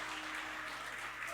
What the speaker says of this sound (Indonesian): Ayo tepuk tangan bagi dia, come on.